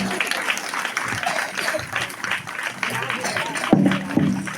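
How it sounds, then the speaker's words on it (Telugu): An audience at a Christmas nativity play claps continuously, a busy wash of hands beneath a speaking voice, with a couple of louder shouts near the end. "నచ్చిన వాళ్ళందరూ గట్టి చప్పట్లు కొట్టండి"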